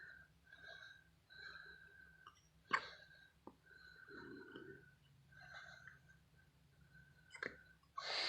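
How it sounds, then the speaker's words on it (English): A newborn premature baby hiccuping, soft and close, with a few sharp hiccups spaced several seconds apart amid quiet breathing and faint background noise. "But he's got the hiccups."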